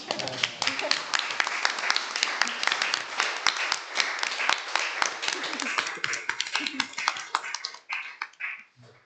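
An audience at a research association conference in Melbourne claps together, a dense patter of sharp hand claps that thins out toward the end, with some voices in the room beneath it.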